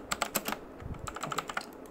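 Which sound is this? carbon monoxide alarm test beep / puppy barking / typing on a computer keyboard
typing on a computer keyboard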